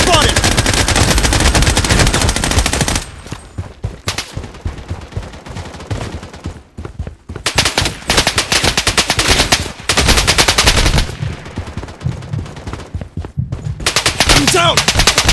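Loud, close machine gun fire in the shooter game Project Bloodstrike rattles in rapid sustained bursts with brief pauses between volleys, mixed with other game sounds.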